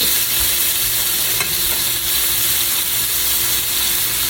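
Onions and cayenne pepper fry in a pan for turkey lo mein, a loud, dense, continuous sizzle with faint stirring scrapes, close up and without talking.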